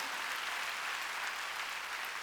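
A church congregation at a Wednesday worship service claps together, a soft, distant wash of steady applause with no voices over it.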